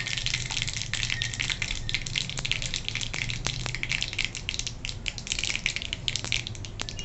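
Continuous loud sizzling and crackling of mustard seeds and asafoetida in hot oil with scattered sharp pops, steady throughout, close up.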